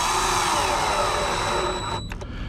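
A power drill drives screws into a cabinet face frame while drawers are installed: a close, loud, high whirring motor runs steadily for about two seconds, then cuts off into a couple of brief taps.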